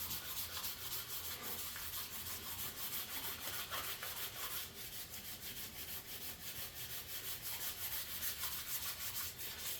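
Steady sanding rubs epoxy off a wood veneer surface during pore filling, a continuous close scratchy hiss with a slight back-and-forth rhythm and no talk.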